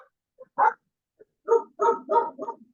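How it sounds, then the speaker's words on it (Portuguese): A dog barks in a series of short, sharp barks, a single one and then a quick cluster of four or five, heard at a slight distance against a quiet background. "o meu cachorro está latindo demais"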